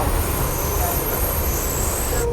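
A passenger train rolls from Vijayawada to Machilipatnam with a steady, loud carriage rumble and rattle that fills the whole stretch without pause.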